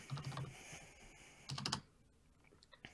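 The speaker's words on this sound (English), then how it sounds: "Can you hear my keyboard?" Computer keyboard typing in bursts of quick clicking keystrokes, close and fairly faint, with short pauses between flurries.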